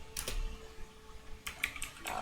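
Computer keyboard keys tapped in two short bursts of a few quick, close clicks each, separated by a quiet pause, over a faint electronic hum.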